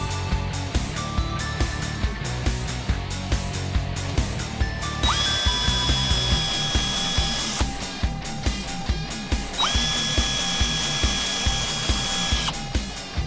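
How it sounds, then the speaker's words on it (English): A power drill bores holes through a Roush rear splitter and side skirt on a 2010-2014 Ford Mustang, whining up and down in repeated close bursts over a steady mechanical ticking, with no talking. "Once you finish drilling your holes"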